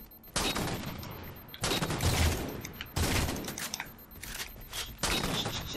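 Bursts of rapid gunfire in a Halo 4 multiplayer match, several loud fusillades fired in quick succession with short pauses between them, and no talking over the shots.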